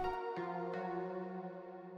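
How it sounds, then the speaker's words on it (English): A Serum synth pluck with chorus turned fully up, struck a few times in quick succession with bright sustained harmonic tones that ring out and fade softly, quiet and alone. "The first thing I started with is this serum sound."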